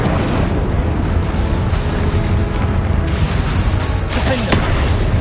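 A fire spell erupts in a video game, a dense, continuous roaring blast of booming, crackling noise that stays loud and steady throughout with a brief sharp pop near the end.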